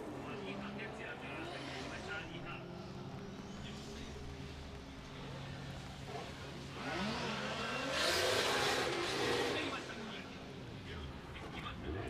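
A drift car on a warm-up practice run at Ebisu in Formula Drift Japan qualifying, engine revving and rising as it passes nearer and louder around the middle, with commentators talking over it.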